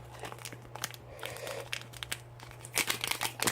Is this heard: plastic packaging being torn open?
yes